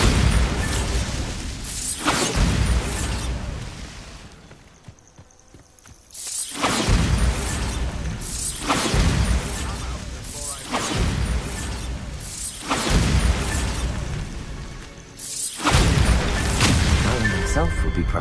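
In the Hogwarts Legacy video game, Bombarda blasting spells go off again and again as heavy booming explosions with shattering debris, arriving in roughly regular bursts amid busy game audio.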